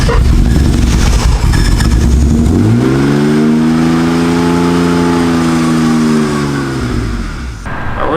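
A BMW E36 barn find car engine runs close and loud, first rough and uneven, then revs up in a rising, sustained roar that holds for a few seconds before dropping back toward idle.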